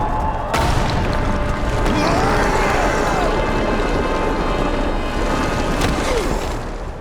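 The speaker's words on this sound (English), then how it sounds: "when you hear that rock break" Rock breaking during earthbending in Avatar: The Last Airbender, heard as a continuous, loud, dense crashing and rumbling that starts with a sharp impact and fills the whole stretch.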